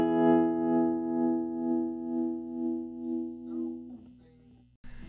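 An electric guitar chord rings out through a tremolo pedal, its volume pulsing at a steady choppy rate as the note slowly decays, then a sharp cut and a new strum at the end.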